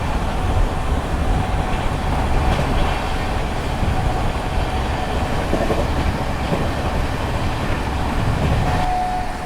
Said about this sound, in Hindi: ये एपी एक्सप्रेस उसी सीआर राजधानी की स्पीड के बराबर ही दौड़ रही है।